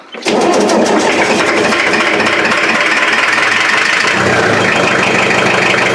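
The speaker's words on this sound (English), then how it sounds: "I gotta turn down the idle just a bit." An LS V8 fitted in a van starts up and settles into a loud, rough, rapidly pulsing idle close to the listener, running steadily without any talk.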